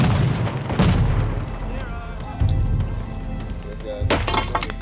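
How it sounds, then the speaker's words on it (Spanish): Explosions blast apart rugged limestone hills at a fossil site in Queensland. Two booming blasts, one near the start and one near the end, are joined by a dense, rolling roar of debris between them. "lo hizo a base de explosiones"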